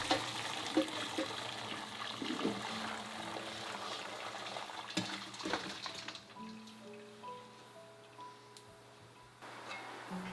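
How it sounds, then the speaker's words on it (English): Cooked vegetables are strained out of vegetable broth from an Instant Pot, with liquid pouring and splashing steadily for about six seconds before fading into quieter dripping and faint clinks. "we're going to strain out the vegetables from the broth"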